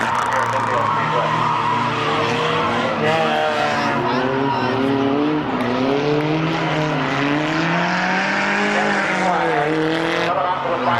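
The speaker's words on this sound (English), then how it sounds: "Coming on to the final turn will be Lenny Orr, the winner." Race cars roaring around the Midvale Speedway oval, engine notes rising and falling in overlapping sweeps as they lap, loud and continuous under the track announcer's calls.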